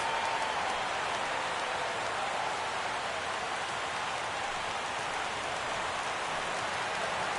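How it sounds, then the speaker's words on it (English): Baseball crowd at a Cubs versus Pirates game rising on a full 3-2 count, a steady, dense wash of distant cheering and applause that holds evenly throughout without speech. "Crowd gets up for the 3-2,"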